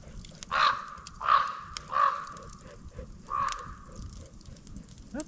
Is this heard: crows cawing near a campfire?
yes